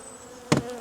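Honey bees buzz around an open beehive as frames go into a honey super; one bee zips close past the microphone in a brief, loud burst, with otherwise quiet surroundings and no talking.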